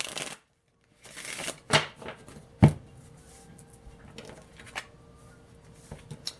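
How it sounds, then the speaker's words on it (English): A deck of tarot cards is shuffled in several quick riffling bursts, close by, with short pauses between and soft handling noises. "Let me shuffle one more time."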